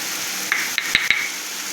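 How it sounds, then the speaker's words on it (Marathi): Ginger garlic paste sizzling as it fries in a pan, a steady close hiss with a few sharp clinks of a spoon stirring against the metal partway through. "हे पूर्णपणे भाजून घेऊया बघा आलं आणि लसणाची पेस्ट भाजून घेतली आहे"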